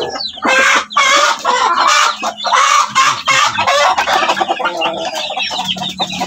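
Chickens clucking and squawking loudly and close by in a Filipino backyard flock with a lone chick, busy overlapping calls filling the whole stretch with no talk.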